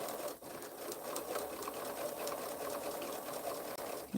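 A sewing machine stitches quilt fabric, running continuously at an even, rapid chatter close by at moderate volume, with only a brief dip near the end.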